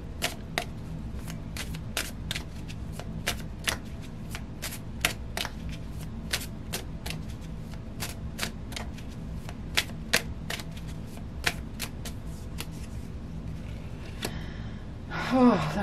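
Tarot cards are shuffled in a steady series of quick, crisp riffling snaps close up, with a soft background hum and a brief rustle at the end.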